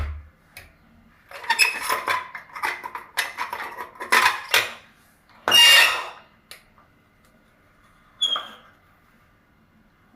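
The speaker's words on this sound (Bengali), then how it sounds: "সমস্ত ইডলিটা একটা সরু ছুরির সাহায্যে তুলে নেব।" A thin knife scrapes and clinks against a metal idli plate while lifting the steamed idlis free: a run of irregular close scraping clatters, then a sharp louder scrape and one last clink, with quiet gaps between.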